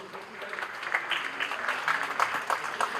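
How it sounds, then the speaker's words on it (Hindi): Applause from an audience for film stars on stage at a celebrity tribute event marking a singer's fifty years of playback singing, a steady ongoing clatter of clapping with crowd noise throughout. "तालियों की आवाज बरकरार रहे"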